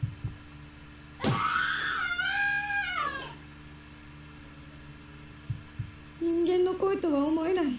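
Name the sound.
boy screaming in terror in Corpse Party, a video game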